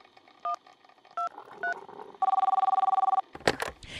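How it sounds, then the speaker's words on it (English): Three separate telephone keypad tones are dialed, followed by a long, rapidly pulsing ringing tone and then a clunk of handling at the end. "maybe you should dial 911"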